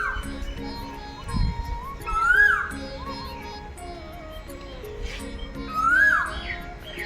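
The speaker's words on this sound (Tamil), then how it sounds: "இந்த கோயிலில் எனக்கு கேட்குற ஒரே ஒரு சத்தம் குயில் சத்தம் மட்டும்தான்" An Asian koel calls at the Choleeswarar Siva temple in Thuvakudi, two rising whistled notes standing out over soft chirps from other birds, quiet ambience and faint distant children's voices.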